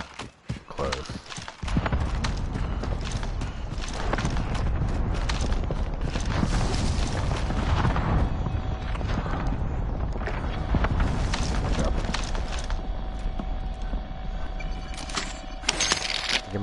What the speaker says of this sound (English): You might hear footsteps, guys.